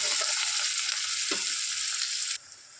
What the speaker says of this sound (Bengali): দেখুন পেঁয়াজ কুচিটা দিয়ে দিলাম। এবার এটাকে একটু নাড়াচাড়া দিয়ে নিই